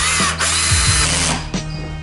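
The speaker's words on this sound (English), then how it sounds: "You always wanna set your screw gun to a ratcheting type, so it just kind of stops at a set point." Cordless screw gun set to ratcheting clutch drives screws into an Animal Plastics cage, with loud close whirring bursts, a clutch stop and brief pauses between runs.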